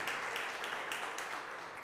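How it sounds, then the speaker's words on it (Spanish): A crowd at a recognition ceremony for diabetes specialists and educators in Puerto Rico applauds, a dense, fairly faint wash of clapping that continues without a break through the short moment. "un fuerte aplauso"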